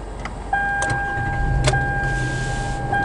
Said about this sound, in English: Now we're inside this 2008 Toyota Sienna LE 7-passenger. Gonna go ahead and start this baby up.